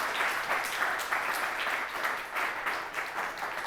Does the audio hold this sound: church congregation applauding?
yes